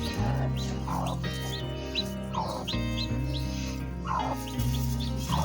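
Hens cluck in short bursts every second or so over a steady low hum, close and moderately loud.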